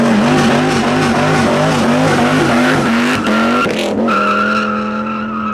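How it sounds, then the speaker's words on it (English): A Dodge Viper V10 with a bolt-on BBK throttle body, run on a dyno, revs hard and loud with rising and falling engine pitch through repeated throttle blips, then settles into a steady high drone. "Let's go try out that throttle response."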